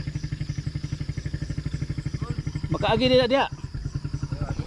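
A motorcycle engine idles with a steady rhythmic putter close by, while people talk over it throughout.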